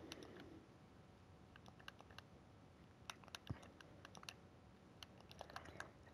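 Fingers type a command on a computer keyboard in a Minecraft chat, with quick, faint keystroke clicks in uneven bursts and a few louder taps standing out against a quiet background hiss.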